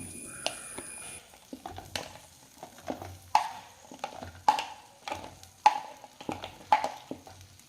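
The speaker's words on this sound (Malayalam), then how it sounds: "ഇത് നമുക്ക് നല്ലോണം ഒന്ന് വഴറ്റിയെടുക്കണം" Green chillies stirred in hot coconut oil in a clay pot, making a soft sizzle broken by repeated spoon scrapes and clinks. A voice talks over the cooking at times.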